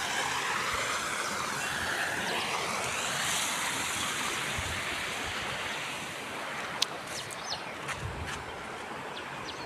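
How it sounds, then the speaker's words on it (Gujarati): Heavy, continuous rain falls over open farm fields, a steady, dense hiss that holds evenly throughout with a few faint scattered ticks near the end and no voices. "કાલે સવારનો નવ વાગ્યાનો વરસાદ ચાલુ થયો તો અત્યારે લગન એક જ ધારો ચાલુ જ છે"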